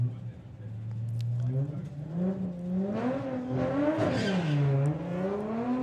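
The Thunderbug Beetle, a VW Beetle drag car, revs and launches down the strip with its engine pitch sweeping up and down through the gears at moderate distance, under commentary voices.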